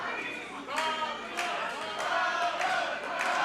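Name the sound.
crowd cheering at a wrestling show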